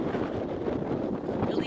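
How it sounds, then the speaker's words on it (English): Steady wind buffets a nearby microphone, a constant low rumbling roar with gusty fluctuations and no clear pauses. "Just a tad bit windy today."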